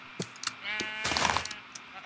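Sheep bleat in Minecraft, a couple of wavering nasal baas with short clicks and taps around them, close and fairly clear against a quiet background.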